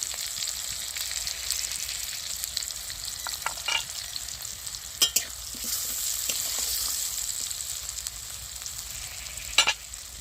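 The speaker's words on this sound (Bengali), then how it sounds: "এবার আমি তেলের মধ্যে হলুদ গুঁড়ো দিয়ে দিচ্ছি।" Turmeric powder frying in hot oil while cooking hilsa fish with green mango gives a steady close sizzle, with occasional spoon scrapes and taps against the pan, no voices.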